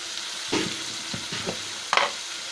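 Tomatoes sautéing in a hot pan after onions, a soft sizzle broken by a few sharp spatula scrapes and stirring knocks, close and without speech.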